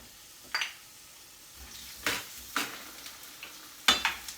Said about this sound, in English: So the oil is hot here. I'm going in with garlic and onion.